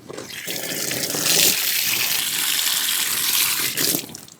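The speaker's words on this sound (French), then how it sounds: "Voilà, rinçage, à l'eau claire," Clear water poured without pressure over a Honda motorcycle, a steady loud splashing and gushing stream running off the bodywork, continuous with slight shifts as the flow moves.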